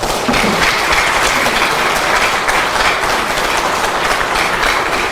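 Loud, dense applause from a crowd at a political party assembly of lawmakers, a steady unbroken roar of clapping close up throughout.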